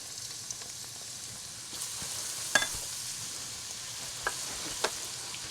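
Ginger frying in hot oil in a pan, a soft continuous sizzle broken by a few sharp clicks and pops of stirring, close and without talk.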